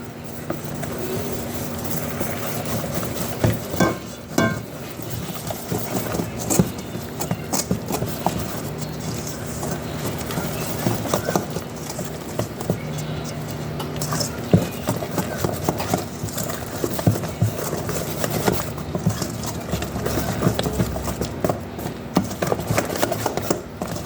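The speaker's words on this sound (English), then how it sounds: "we're going to go ahead and whisking our whole eggs into this batter. We're going to whisk until it's nice and smooth." Whole eggs are whisked into cake batter for an opera cake, producing a continuous close scraping and tapping of a whisk against the bowl in quick irregular strokes.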